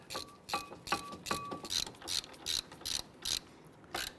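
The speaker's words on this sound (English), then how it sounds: "Let's go ahead and snug these down." A ratchet snugs down the brake caliper bracket bolts on a 2011-2015 Kia Sorento during a front brake job, giving repeated close, crisp clicking bursts roughly every half second.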